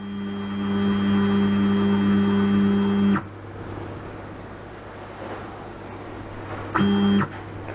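A CNC milling machine's y-axis motor drives the table all the way back in one steady, loud whirring hum for about three seconds, then stops; a second short burst of the same drive whine follows near the end.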